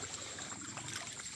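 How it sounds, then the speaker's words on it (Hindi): Plenty of water flowing along a village stream, a faint steady trickling and burbling with small splashes, quiet and continuous with no one talking. "जूदा पानी चल रहा।"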